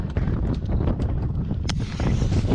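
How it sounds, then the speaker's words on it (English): Strong wind gusts roar and buffet the microphone during an outdoor airsoft battle in a windstorm, loud and continuous with scattered knocks and rustles. "Oh, the wind!"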